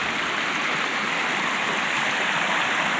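Rain-swollen water pouring over the upper part of a spillway waterfall, a dense, steady rushing roar close by with no other sounds.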